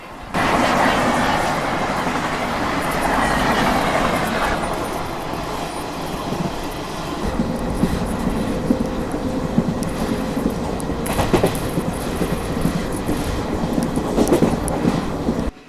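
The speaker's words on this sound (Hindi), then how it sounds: "और ये मेरे ख्याल से train number 22151 Pune Kazipet superfast express है।" The Pune–Kazipet Superfast Express passing close by, a loud sustained rumble and rattle of rail cars with clattering wheels that shifts in tone as the carriages roll past.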